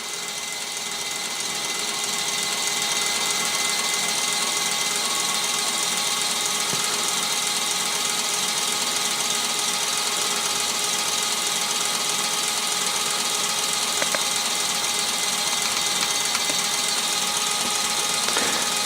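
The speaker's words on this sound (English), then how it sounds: "the piston gives it that pulsating effect, like an internal combustion engine." A model Hetzer tank smoke generator with a piston and heating resistor runs at full output, giving a loud, steady, engine-like pulsing drone that continues unbroken and alone for the whole stretch.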